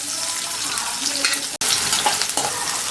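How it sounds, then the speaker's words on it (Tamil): Oil sizzles steadily as onions sauté in a pan, with a brief stirring scrape midway and a short break in the sound. "வெங்காயம் நல்லா வதக்கணும்"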